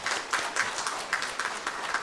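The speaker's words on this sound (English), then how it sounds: "give a warm round of applause for our Honorable Chief Minister" A conference audience claps for the Chief Minister, a brisk crowd applause with scattered sharper claps standing out, steady throughout and heard alone without speech.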